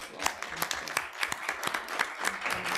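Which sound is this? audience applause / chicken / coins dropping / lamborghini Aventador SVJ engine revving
audience applause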